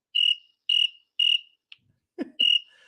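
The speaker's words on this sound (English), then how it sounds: "I hear crickets." Crickets chirp in four clear, evenly spaced bursts, each a bright sustained trill, with a short click and a faint thump between the third and fourth.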